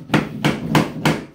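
Hammer tapping LifeProof vinyl snap-and-click floor planks into place during an apartment floor installation, four evenly spaced dull knocks close by, with no talk.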